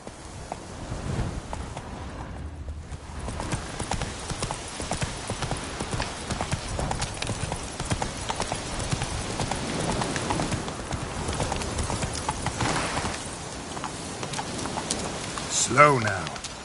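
Roach the horse gallops in The Witcher 3, rhythmic clip-clop hoofbeats running steadily throughout over rain and ambient noise, with a brief louder burst near the end.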